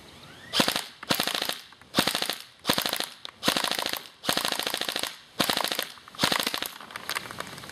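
Gunfire aimed at a watermelon: eight loud, close bursts of rapid automatic shots, each lasting about half a second, separated by short pauses.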